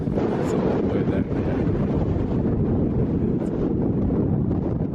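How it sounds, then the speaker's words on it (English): Strong wind at a high, exposed viewpoint roars hard and steadily against the microphone, a loud, constant buffeting rumble with no pauses. "It is very, very windy though."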